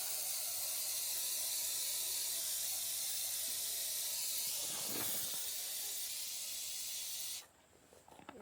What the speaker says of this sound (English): I'm just going to spray some rust proofing on this.